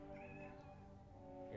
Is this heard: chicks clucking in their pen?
no